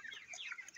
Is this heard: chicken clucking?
yes